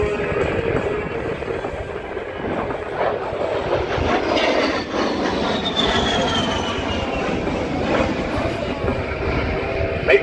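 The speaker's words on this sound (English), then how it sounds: "pulls back on the stick, slingshotting the A10 straight into the vertical" A-10 Thunderbolt II jet at an airshow performing aerobatics, a loud continuous roaring engine rumble with a rising whine, steady and powerful throughout.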